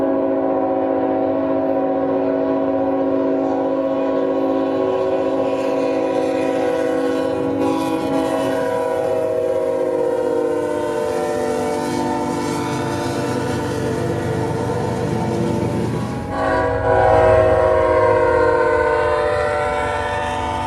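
Freight train M601 rolls past at Vienna at dusk, its locomotive horn sounding in long sustained blasts over a steady rumble of engines and wagons, growing louder near the end as the train draws close.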